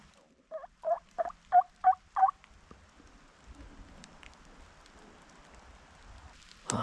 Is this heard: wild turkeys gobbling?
yes